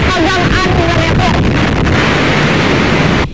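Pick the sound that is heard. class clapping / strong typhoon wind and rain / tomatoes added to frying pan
strong typhoon wind and rain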